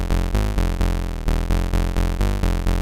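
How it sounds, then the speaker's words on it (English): A buzzy, thick square-wave synth bass note from Serum pulses in a steady repeated rhythm, its tone shifting and sweeping slightly as the pulse width modulates, loud and continuous. "starting off with a square wave PWM turned on."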